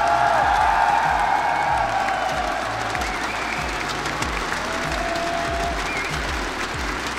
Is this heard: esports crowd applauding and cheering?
yes